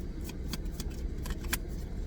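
A rapid, steady series of crisp riffling bursts of tarot cards being shuffled close by, repeating every quarter second over low background hum.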